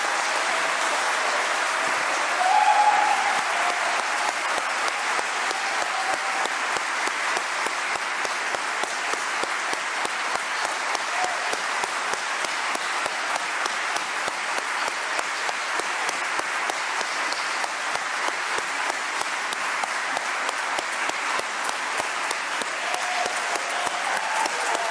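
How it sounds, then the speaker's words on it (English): A church congregation at worship gives sustained applause, a steady wash of clapping that stays even across the whole stretch, close and full, with no voices over it. "Let's give the Lord the applause"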